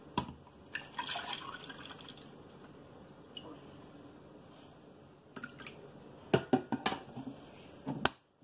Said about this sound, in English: Oh, I gotta put the water in.